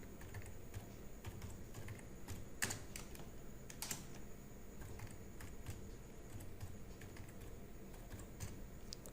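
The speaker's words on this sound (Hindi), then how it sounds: "अब यहाँ पे लिखने के बाद हम 2 बार इंटर प्रेस करेंगे" Keys tapped on a computer keyboard while entering text, including presses of Enter and Tab: faint, sparse clicks, a couple of them sharper, over a steady hiss of background noise.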